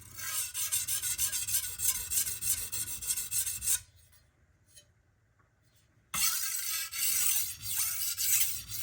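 A chef knife rasps in steady back-and-forth strokes across a Naniwa Hayabusa whetstone, close and bright, stopping for a couple of seconds of near silence before the gritty strokes resume.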